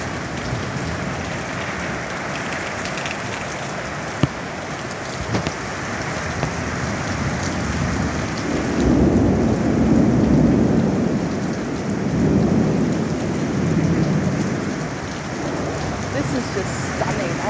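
Heavy rain pours steadily through a Kambalda thunderstorm while low rolling thunder swells twice in the second half, with a few sharp knocks early on.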